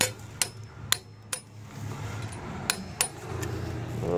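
A torque wrench tightens a bolt, set to about 40, on a 2012 Nissan Altima 2.5L during a CVT transmission replacement. Several sharp, close metallic clicks sound at irregular intervals over a low background hum.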